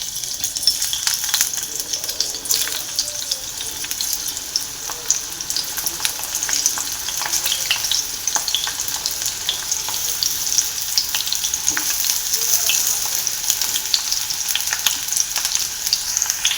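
Pieces of ridge gourd and brinjal fry in hot oil, giving a dense, steady crackle and sizzle close by, with fine spitting pops scattered throughout and no talking.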